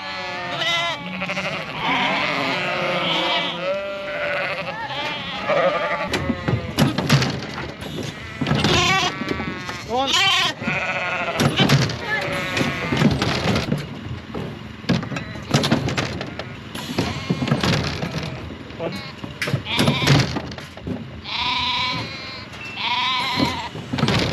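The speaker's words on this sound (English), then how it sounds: "So these are the lambs that were born in the first 2 weeks." Young lambs on a farm bleat repeatedly and loudly, several overlapping calls near and far, with occasional rustling and background noise between cries.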